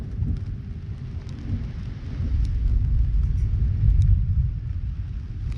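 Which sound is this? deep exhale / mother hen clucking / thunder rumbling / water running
thunder rumbling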